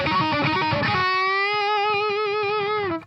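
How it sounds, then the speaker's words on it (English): Distorted electric guitar lick played dry with no reverb: quick picked notes for about a second, then one sustained bending note with wide vibrato, cut off abruptly. "Here's a lick with no reverb."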